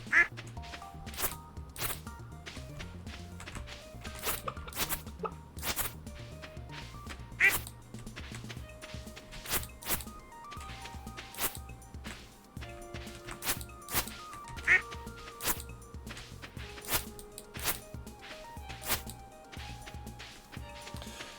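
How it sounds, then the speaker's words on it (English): Ducks quacking in the Stardew Valley farming game, with repeated short game sound effects over looping background music at a steady, moderate level. "Come back here, little duck."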